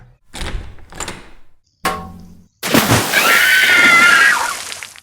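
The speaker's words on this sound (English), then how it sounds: "what if someone else opens the door?" A cartoon door opens in an animated show: a few short thumps, then a longer swishing, creaking sweep that swells and fades over about two seconds.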